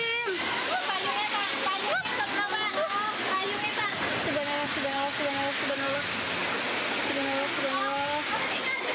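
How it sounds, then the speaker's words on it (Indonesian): Heavy rain driven by strong wind in Wai district, East Lampung, Indonesia, a dense, constant roar of downpour with no letup, while people speak and exclaim loudly over it throughout. "Warga merekam saat hujan turun disertai angin kencang di Kecamatan Wai, Jepara, Lampung Timur, Lampung."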